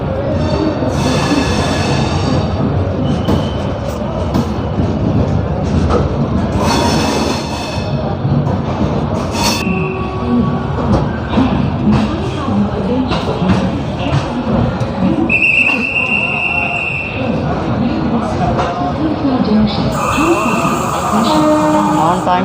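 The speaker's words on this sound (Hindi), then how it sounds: "ऑन टाइम खुली है अपनी ट्रेन।" The Poorva Express, a sleeper-class train running from New Delhi to Gaya, rumbles loudly and continuously as heard from on board, with rail clatter, brief wheel squeals and a few faint voices mixed in.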